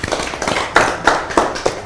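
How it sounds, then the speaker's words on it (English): An audience at a youth debate session claps for themselves, a handful of sharp, separate hand claps in an uneven rhythm, close and fairly loud, with no one talking over them. "You guys, can you please clap for yourselves?"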